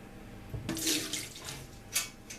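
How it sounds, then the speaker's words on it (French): Octopus rinsed under running tap water in a kitchen sink, close splashing and rushing bursts of water over a couple of seconds, no speech. "on va retirer l'eau de notre cocotte minute et rincer notre poulpe 1 ou 2 fois à l'eau claire"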